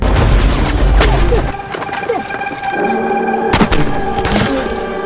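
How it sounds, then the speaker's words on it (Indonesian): Bursts of gunfire from a special forces ambush crack sharply amid a heavy low rumble, with a loud volley near the middle and scattered shots around it. "langsung melepaskan tembakan"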